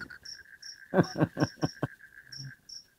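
A cricket chirps in a steady, repeating trill close by, with a few soft thumps and rustles mixed in around it.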